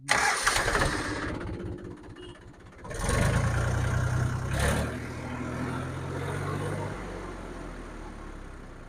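A Mahindra DI tractor's diesel engine cranks with rapid chugging, dies briefly, then catches and roars into a steady, loud rumbling idle nearby.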